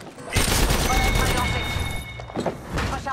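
Rapid automatic gunfire in the Apex Legends video game, a dense close burst of shots that fades, then short bursts return, with in-game sound effects over a steady background.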